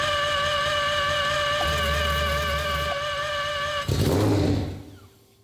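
An all-wheel-drive Mazda RX-7 with a four-rotor engine sounds loud and close. A steady high whining tone runs for several seconds before a rougher burst, which then fades away.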